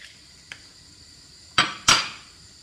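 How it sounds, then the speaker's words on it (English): An egg is cracked on a hard edge in a home kitchen. There is a faint tap first, then two sharp, close knocks in quick succession, with quiet room tone in between. "So I'm going to crack my egg."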